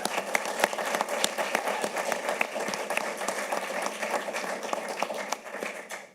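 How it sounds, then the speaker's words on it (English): Audience applause at a 2022 Vermont gubernatorial candidates' debate, greeting candidate Brenda Siegel: a dense, steady wash of many hands clapping at moderate loudness, sustained for about six seconds before trailing off at the end. "And you may now please feel free to applaud for Brenda Siegel."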